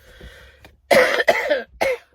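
Three harsh, close coughs in quick succession after a quiet pause, the first two running together and the last short and sharp.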